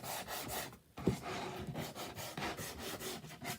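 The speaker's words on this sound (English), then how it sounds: "So we're just going to sand all of my edges just a little bit." Hand sanding along wood edges, a series of rough rubbing strokes with brief pauses, close and moderately quiet.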